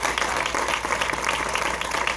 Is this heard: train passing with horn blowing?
no